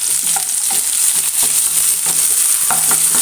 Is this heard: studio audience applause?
no